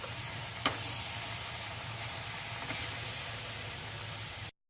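A pound of fresh spinach sautés in a pan over low heat, a steady close sizzle and hiss with a couple of faint stirring knocks, no voices.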